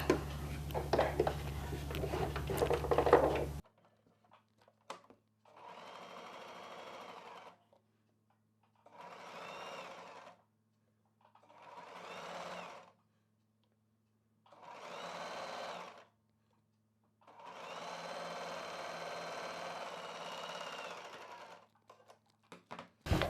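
A sewing machine stitches folded cloth for a child's hair scrunchie in five separate bursts of steady motor whirring, the last one longest, with quiet pauses between and a brief louder rustle at the start.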